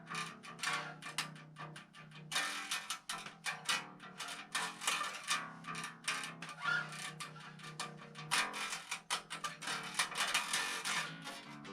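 A bass guitar is played with a jazz pick during practice, with heavy string muting: a close, steady stream of rapid, punchy picked notes with a bright attack and slightly gritty tone, continuous throughout with no talking.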